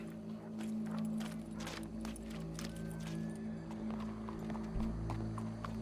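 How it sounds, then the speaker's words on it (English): Horse hooves clip-clop in Red Dead Redemption 2 as faint, regular hoof beats over a low steady hum, quiet and somewhat distant throughout. "Go brush that horse"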